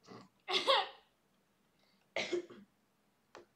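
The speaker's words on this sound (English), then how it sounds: "I keep freaking coughing." A few harsh coughs close by, a cluster early on, then another cough and a brief short one after pauses of quiet.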